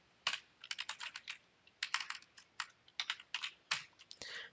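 Rapid bursts of close computer keyboard typing while writing Java code, with irregular clusters of crisp key clicks separated by short pauses, fairly quiet overall.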